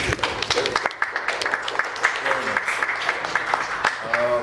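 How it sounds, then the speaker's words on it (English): Polite golf clap from a city council meeting audience, with scattered light claps and a few sharp hand hits mixed with murmured voices and room noise, steady and moderately loud throughout. "golf clap for Miss Riley because that was a really good speech."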